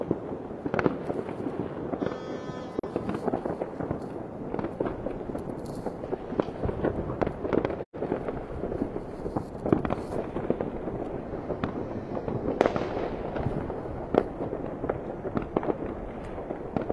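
New Year's Eve fireworks and firecrackers crackle and boom continuously, a dense barrage of near and distant bursts with rapid popping strings, heard from a city vantage at night with no talk.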